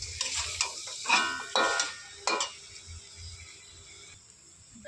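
Mutton frying in a pan gets stirred with a few scraping strokes over a soft sizzle. The sound is close and uneven, with short bursts of stirring and then quieter stretches.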